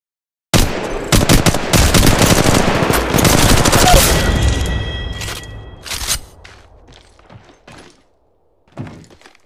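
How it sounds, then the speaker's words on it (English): An R-301 rifle fires in Apex Legends Mobile, a loud sustained burst of rapid automatic gunfire for several seconds, followed by a few scattered shots and clunks, then quiet with one final thud. "Yeah, try the R301 and shoot him down."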